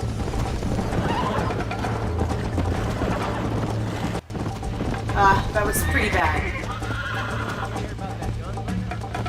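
A horse in the Red Dead Redemption video game gallops during a race with rhythmic clip-clop hoofbeats and lets out a loud neigh midway, over game music, while someone talks throughout.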